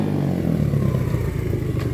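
An X-pro Storm 125cc pit bike ridden close by, its small engine buzzing and revving steadily with a rough, clattering tone.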